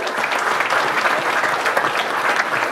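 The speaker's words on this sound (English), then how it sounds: "massive round of applause." Audience giving a business investor a round of applause, a full, loud, continuous clatter of many hands clapping close by for a few seconds.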